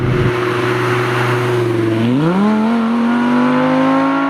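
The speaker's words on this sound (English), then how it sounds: "that was some of the sharpest acceleration I've ever felt" An Audi R8 with a ten-cylinder engine accelerates hard, a loud close steady roar that climbs in pitch partway through, with no talk.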